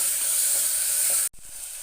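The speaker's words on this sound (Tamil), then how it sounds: "இதையும் நல்லா மிக்ஸ் பண்ணி விடுங்க." Tomatoes frying in a pan for soya biryani, a bright steady sizzle with faint stirring, close, cut off abruptly near the end.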